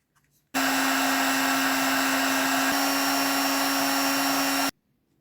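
A heat gun or hair-dryer-style blower warms PVC pipe for an electric sprayer build. It switches on abruptly with a loud, steady roar and a constant tone, runs for about four seconds, then cuts off cleanly into quiet.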